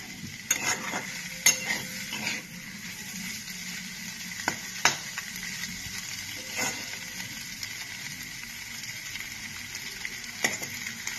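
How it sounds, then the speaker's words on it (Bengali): An egg sizzles steadily in a hot pan for egg Maggi noodles, with a few sharp clinks and scrapes of a utensil stirring it. "এটাকে কিছুক্ষণ আমি একটু ভাজা ভাজা করে নেব।"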